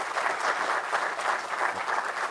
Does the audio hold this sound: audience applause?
yes